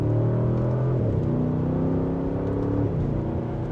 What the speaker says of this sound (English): So we'll give it an acceleration here.